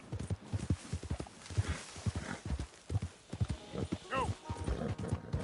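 Horse hooves from Red Dead Redemption II clip-clop in a quick, close, uneven rhythm throughout, with a brief whinny partway through and a voice speaking over the hoofbeats.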